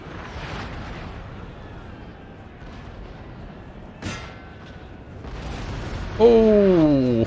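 Cannon shot from an artillery battery in the Napoleonic battle game Napoleon: Total War, a single sharp boom heard over steady battle noise, with a voice speaking near the end.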